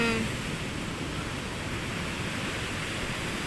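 Big high-tide surf, waves around six feet high, pounds a sandy shore in a constant loud wash of rushing water, near and unbroken, with no one talking.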